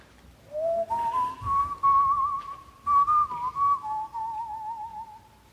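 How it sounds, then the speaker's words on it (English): Someone whistles a slow, tuneful melody alone, the notes gliding and held, clear and close with nothing else around it. "if you whistled a melody, a familiar melody"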